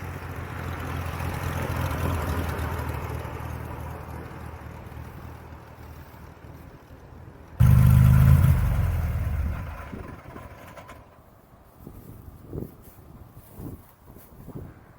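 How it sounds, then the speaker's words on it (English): Small aircraft propeller engine running at idle, then a sudden loud burst before the engine winds down and stops, leaving faint knocks and quiet wind noise on the ground after landing. "you notice as Steve shut down the engine that you didn't get that rock in the propeller."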